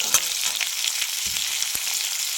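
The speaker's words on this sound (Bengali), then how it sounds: "একে একে দিয়ে দেব গ্রেট করা আদা, টমেটো কুচি, লঙ্কা চেরা দিয়ে একটু ভালোভাবে নাড়িয়ে নিচ্ছি।" Grated ginger, chopped tomato and slit green chillies stir-fried in hot oil give a bright, continuous sizzle, with a few light clicks and scrapes from the spatula close by.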